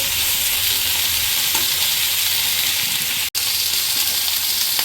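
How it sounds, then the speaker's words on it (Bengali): Tomato, red chilli and soy sauce sauce poured into sizzling Kolkata-style dry chilli chicken with capsicum, giving a loud, steady frying hiss that runs throughout, broken only by a brief dropout near the end. "আমরা যে tomato, red chilli, soya sauce দিয়ে যে সসটা তৈরি করে রেখেছিলাম সেটাকে এবার অ্যাড করছি।"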